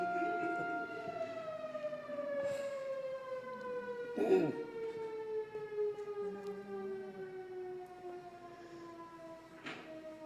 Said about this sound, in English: It's so important, there's a siren.